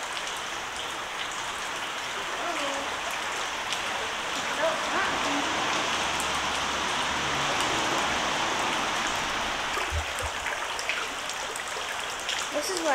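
Rain falls steadily near a creek under a bridge in Alaska, making a continuous close hiss of drops and running water, with faint voices at times.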